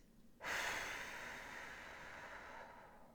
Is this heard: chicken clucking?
no